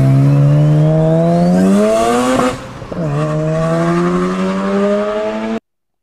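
A Mazda RX-7 from Fast and Furious revs loudly and climbs through two gear pulls with a brief shift dip between them, with the engine close and dominant before it cuts off abruptly.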